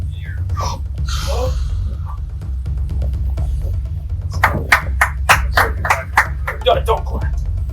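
A small group claps hands in a burst of sharp, irregular slaps lasting a few seconds, heard over a steady low hum, with talk just before.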